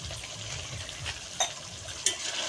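Prawn pulao being stirred in a pot with coriander leaves and garam masala: a soft, faint scraping and sizzling with two small sharp clinks of a utensil against the pot.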